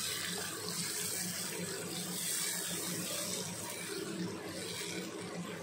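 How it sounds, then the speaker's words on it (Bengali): Tap water runs steadily into a sink as a bowl is washed in a home kitchen, a close, continuous splashing rush without pauses. "তোমরা বাটিটাকে ধুয়ে দিতে পারো"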